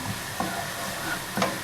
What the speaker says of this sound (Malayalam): ഇതുകൂടെ ചേർത്തിട്ട് അതിൻ്റെ പച്ചമണം മാറുന്ന വരെ വഴറ്റുക